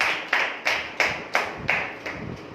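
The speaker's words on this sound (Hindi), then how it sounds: "तो इन गवाहियों के लिए, इन उपकारों के लिए हम ताली बजाएं" Congregation at an online worship gathering clapping hands in thanks, six sharp bursts of claps in a steady rhythm, moderately loud with no talk.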